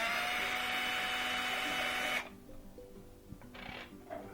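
A small electric screwdriver whines steadily while backing screws out of the top piece of a YETI portable power station's lead acid battery, then cuts off, leaving faint clicks and handling noise.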